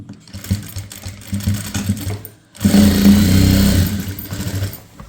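A sewing machine stitches the shoulder seams of a chudithar top, with choppy short runs first, a brief pause, then a longer, louder steady burst, up close.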